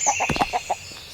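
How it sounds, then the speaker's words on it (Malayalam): In an animated story a rooster gives a short run of quick, close clucking calls, about five bursts in a little over a second, with a faint hiss in the background. "ഓട് പൂവൻ കോഴി, നിന്റെ വീട്ടിൽ പോയി കിടന്ന് കൂവേടാ."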